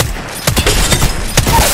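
Loud Apex Legends gunfire, a rapid run of sharp shots in uneven bursts against a noisy background, close and punchy throughout.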